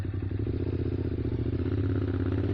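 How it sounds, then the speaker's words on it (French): A Yamaha MT-07 motorcycle engine drones steadily and loud up close, its low harmonic rumble holding through a gear change into third as the rider tries to lift the front wheel, with faint mechanical clatter underneath. "j'ai embrayé, j'ai passé la 3 et j'ai voulu faire un wheeling"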